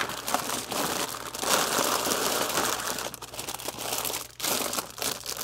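Crinkling of a plastic bag holding Lego instruction books for a Medieval Blacksmith set, a steady close-up rustle and crunch of thin plastic handled continuously for several seconds, with no one talking.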